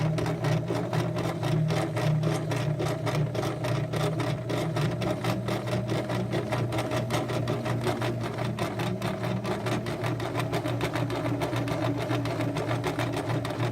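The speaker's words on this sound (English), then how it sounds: "take a couple of stitches, and now reverse to lock your stitches down, and go forward again" A sewing machine runs at a steady, close, continuous pace while stitching a tote, forward then briefly in reverse to lock the seam and forward again, with no break in the whirring rhythm.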